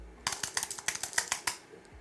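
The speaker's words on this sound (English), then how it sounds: "I also like the sound of the iMac keyboards." Fingers tap out a quick, uneven run of close, crisp keystrokes on a standard Apple iMac keyboard at a desk setup, with no voices.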